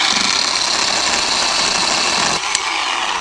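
Harbor Freight 10 inch electric chainsaw running steadily through nasty hard wood, a continuous close motor whine that briefly dips before carrying on.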